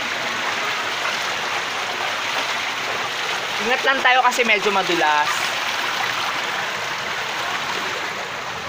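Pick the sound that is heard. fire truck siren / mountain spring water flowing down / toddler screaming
mountain spring water flowing down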